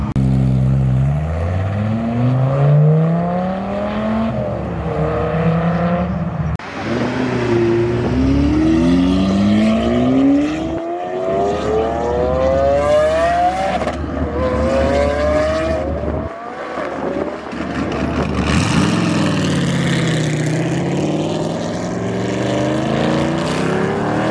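Supercars pull out of a cars and coffee meet, engines revving loudly and close by in repeated rising sweeps as they accelerate, with brief gaps between passes and a final deep roar.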